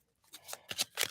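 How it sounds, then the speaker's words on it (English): A deck of playing cards is riffled and shuffled in quick close bursts, several crisp fluttering riffles in succession in a quiet room. "Shuffle, shuffle, shuffle."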